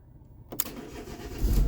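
2002 Renault Laguna engine starting from a single button push: a quiet lull, a sharp starter catch, then the motor firing up and settling into a close, rising idle rumble.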